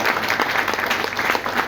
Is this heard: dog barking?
no